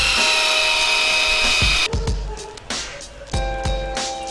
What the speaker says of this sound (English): we're bolting these ones through from the tread first, then up into the tyre.